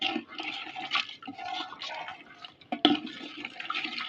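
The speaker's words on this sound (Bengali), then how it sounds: "মাংসটা একটু নেড়ে চেড়ে কষে নিয়েছি, এবারে সেদ্ধ করতে দেবো জল দিয়ে। জল নেড়ে দেবো একবার" Water poured into a pot of browned beef being readied for boiling makes a continuous splashing, gurgling rush with small clinks, steady and close throughout.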